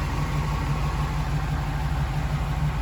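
A 1969 International Scout 800A engine running steadily nearby, a continuous low rumbling idle with an even pulse and no talk over it.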